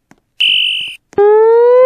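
A fire alarm in a Roblox building plays a short high electronic beep, then after a pause a loud rising whooping tone begins, with no voices.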